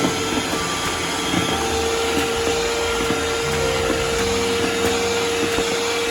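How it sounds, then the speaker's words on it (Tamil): An electric hand beater whips eggs at high speed for a homemade Black Forest cake batter, giving a steady, loud, unbroken motor whir throughout with no talking. "கொஞ்சம் கொஞ்சமாக ஸ்பீடு இன்க்ரீஸ் பண்ணி 5th ஸ்பீடில் போட்டு நல்லா ஒரு 3 to 4 மினிட்ஸ் நல்லா பீட் பண்ணிங்களா வச்சுக்கோங்களேன்"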